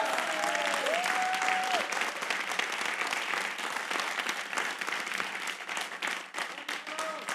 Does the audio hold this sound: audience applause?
yes